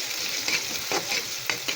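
Onions sizzling in a hot pan for chicken adobo, a loud, close, continuous hiss with brief surges as they are stirred.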